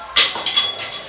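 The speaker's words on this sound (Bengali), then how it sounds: "এবার ঢাকনাটা তুলে দেখি" A metal pan lid clinks as it is lifted off a pan of simmering egg curry in tomato gravy, a short sharp clatter followed by a couple of lighter taps.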